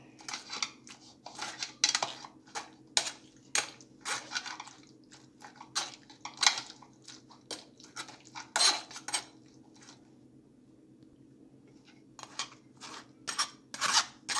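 Mashed moringa pulp pushed through a metal kitchen strainer, a run of sharp scraping and rubbing strokes in an irregular rhythm, close and clear over a low steady hum, with a short pause before the strokes resume.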